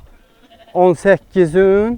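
A neighbour's sheep on a farm bleat loudly and close by: two quick wavering calls, then a longer drawn-out bleat, with a brief voice alongside.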